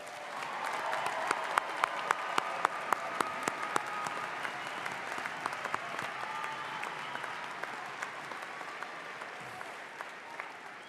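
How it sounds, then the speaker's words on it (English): An audience at a university fall undergraduate commencement ceremony applauds its graduates, sustained clapping from a large crowd filling a hall with a few sharper claps standing out. "How about one more round of applause for our graduates?"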